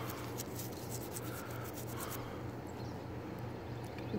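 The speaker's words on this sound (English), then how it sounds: "Put it on my brush, I'm gonna scrub off my recoil spring just to do it." A brush scrubs cleaner over a Glock 43X recoil spring in a steady, close, continuous rubbing and scratching that runs the whole time without a break.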